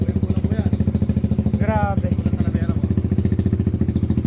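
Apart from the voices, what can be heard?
loud Raider Fi motorcycle engine running on dyno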